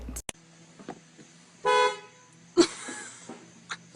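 Car horns honk in Korean street traffic: two distinct blasts, one sustained and one shorter, sound over faint road noise, with a few brief clicks around them.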